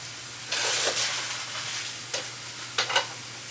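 Eggs frying in a pan, a steady close sizzle with a few sharper bursts of crackle and stirring scrapes, no talk.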